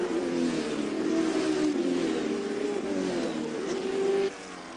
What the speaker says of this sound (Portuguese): A emoção, o ronco dos motores, dos potentes motores da Stock Car.